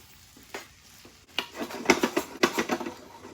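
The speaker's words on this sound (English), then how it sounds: "Give this a quick stir." A utensil scrapes and stirs through onion and celery frying in a pan, several clattering strokes in quick rhythm over a low sizzle.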